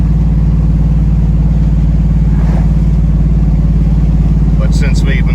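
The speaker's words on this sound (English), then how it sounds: "See, there's the backfiring, which I'm not worried about that." A cammed 8.1 Vortec GMC truck engine hauling a 15,000 lb trailer coasts with a loud, steady drone, a few brief popping backfires crackling over it near the end.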